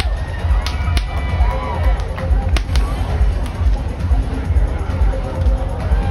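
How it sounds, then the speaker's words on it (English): Two bullwhips cracked by a rodeo performer, one in each hand, giving a series of sharp, loud snaps spread unevenly over a steady crowd murmur in an arena. "we're gonna crack the whip."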